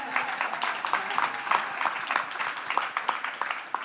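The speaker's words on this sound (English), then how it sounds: "Please join us in another round of applause for all of our speakers" An audience applauding speakers at a museum talk, a dense patter of many hands clapping at a moderate level, steady for a few seconds.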